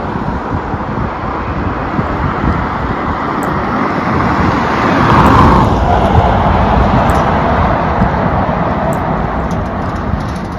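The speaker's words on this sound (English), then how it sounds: "There's usually a steady flow of cars, trucks, and trailers." Road traffic of cars, trucks and trailers passing near an arena with parked RVs: a continuous broadband roadway rumble, with one vehicle swelling louder as it passes midway, mixed with some wind.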